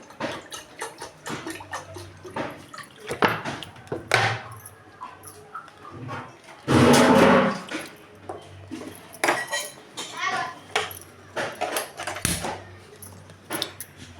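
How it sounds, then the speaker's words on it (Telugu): Water is poured into a cooking pot for porridge in a home kitchen: a single loud splashing pour of about a second, set among scattered clinks and knocks of utensils and pots. "ఇదిగో కొన్ని అయితే నీళ్ళు వేసుకుంటున్నాను సరిపడగా."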